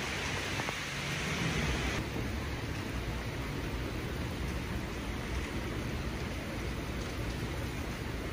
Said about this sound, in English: It's raining like crazy out here.